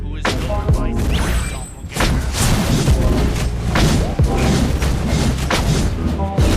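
A turret is destroyed in the mobile game Mobile Legends, with loud, dense booms and crashing impacts piling up continuously amid battle effects, briefly dipping near the two-second mark before the thumping explosions resume.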